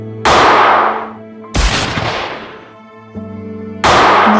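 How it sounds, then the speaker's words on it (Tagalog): Three loud rifle gunshots ring out in succession during an execution scene, each a sharp blast with a decaying echo, spaced roughly a second and a half apart over a low sustained tone. "Narinig ang malakas na tunog ng mga baril. 3 putok na magkakasunod."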